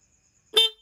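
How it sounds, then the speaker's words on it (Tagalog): One brief, sharp motorcycle horn honk bursts out close by after near silence, lasting well under a second. "Ganun lang yung pang horn with passing"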